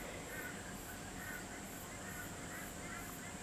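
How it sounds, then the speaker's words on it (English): Crows caw in the distance, a few faint repeated calls rising over a steady outdoor background hiss. "I can hear those naughty crows in the background."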